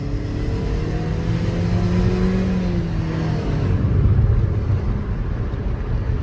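A 2024 Hyundai Accent climbs a steep uphill road with the throttle pressed down, its engine note rising steadily in pitch under constant road and wind noise, close and continuous with no voices.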